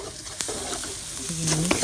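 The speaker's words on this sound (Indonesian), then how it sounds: "Jadi kita masukkan cabenya dipotong kecil ya, kayak gini." Small-cut chilies drop into a hot pan and sizzle steadily while being stirred, with a scrape or two of the utensil, close and fairly loud, for an Indonesian tofu and chili dish.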